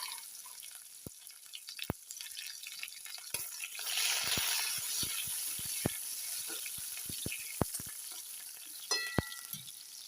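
Chopped onion with a dried chilli and whole cumin sizzles in hot mustard oil, a steady hiss punctuated by sharp, irregular clinks of a spatula stirring the pan, close and fairly quiet.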